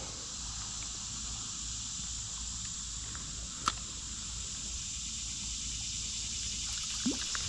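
Slow-moving creek water, a faint, steady trickle and hiss running throughout, with a couple of small knocks, outdoors and without talk.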